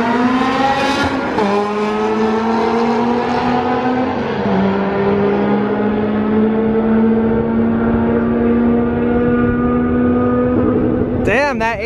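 Drag racing cars, a Mercedes-AMG Benz against a Honda Civic, roar at full throttle as engines rev and climb through gear changes, loud and sustained, with a sharp burst near the end.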